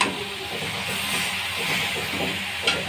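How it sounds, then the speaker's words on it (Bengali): Leafy greens are stirred and fried in a pan, giving a steady close hiss of sizzling oil with soft scraping movements and a brief louder stir near the end, with no voices. "শাকটা নাড়াচাড়া করছি"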